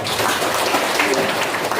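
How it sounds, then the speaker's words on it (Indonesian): Applause for a school at a parenting seminar, a steady dense wash of clapping from an audience that runs through the whole stretch at even loudness. "Tepuk tangan untuk sekolah kita."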